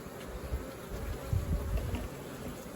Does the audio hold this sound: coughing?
no